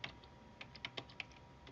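Quiet keystrokes tap on a computer keyboard, with about half a dozen light, irregular clicks spaced across a short burst of typing.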